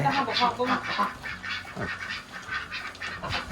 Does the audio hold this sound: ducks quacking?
yes